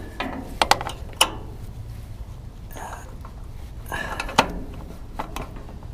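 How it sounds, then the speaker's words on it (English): A wrench working a fuel shutoff fitting on a Troy Bilt chipper shredder in a cramped spot, producing scattered sharp metallic clicks and taps, close by, over a low background rumble. "I can get a wrench on that, just barely"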